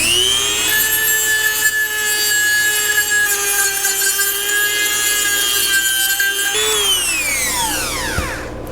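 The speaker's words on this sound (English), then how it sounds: "So just using the Dremel to clean it up." A Dremel rotary tool grinding a motorcycle headlight mount during a sealed beam to LED conversion, a loud, close, high-pitched whine held steadily, then shifting in pitch and spinning down at the end.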